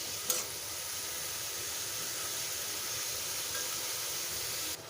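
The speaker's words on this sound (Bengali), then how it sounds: "এখন ভালোভাবে কষিয়ে নিই" Fish curry with vegetable stems and new potatoes cooks down in a pan with a steady, even hiss of sizzling at close range, opening with one brief knock.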